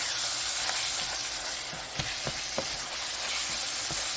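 Beef and bean burrito filling sizzles steadily in a hot pan while being stirred, with a constant frying hiss broken by a few soft scrapes and knocks of the spoon.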